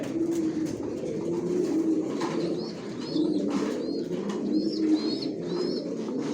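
Racing pigeons in a loft coo repeatedly in a steady, low murmur, several birds overlapping, with faint chirps and rustling above.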